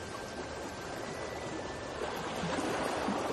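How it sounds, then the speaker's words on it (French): Sea waves wash steadily onto the shore in a continuous, even rush of surf that swells slightly louder toward the end, with no voices. "Les vagues continuent leur spectacle pour vous,"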